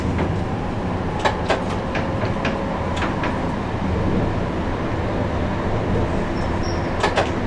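A Dualis tram-train gathers speed between Le Bourget and Epinay, heard from inside the driver's cab as a steady, loud rumble with scattered clicks and knocks.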